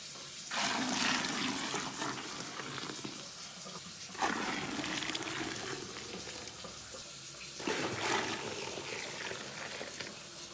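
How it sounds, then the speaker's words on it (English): Water running into a bucket while homemade laundry soap is mixed, a steady rushing pour with three louder surges, moderately close, with no talking. "for ever how many times it takes to finish filling our bucket"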